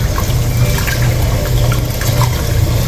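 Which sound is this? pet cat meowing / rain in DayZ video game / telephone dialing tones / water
water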